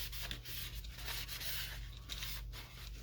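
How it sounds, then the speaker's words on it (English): A cloth soaked in isopropyl alcohol rubs along the arms of an FPV drone, a close, continuous scratchy rubbing with faint strokes over a steady low hum, no talk. "Soak this thing in ISO. And I'm going to rub down the arms."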